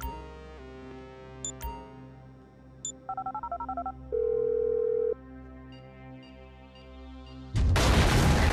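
Phone keypad tones being dialed in Grand Theft Auto V, a quick run of beeps followed by a steady held tone, set against a low game soundtrack hum that ends in a loud burst of noise.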